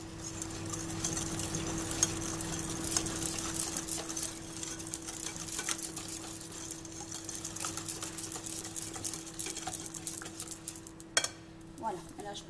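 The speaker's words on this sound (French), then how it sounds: "On mélange bien." Cake batter for a pear and rum cake being stirred in a bowl, a steady soft scraping and swishing that lasts throughout over a constant low hum, with occasional small knocks of the utensil.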